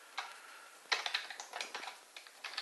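Quiet, irregular clicking of keys being typed on a keyboard, a short burst of close taps with small pauses between them.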